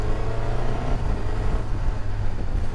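Suzuki GSX-S1000-GX motorcycle engine running steadily under load with a quick shifter, a continuous close, loud, low droning rumble with no clear break between gears.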